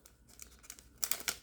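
A Pokémon card pack being cut open with scissors, a few quick close crinkling snips and rustles of foil wrapper, faint and brief, with no talking.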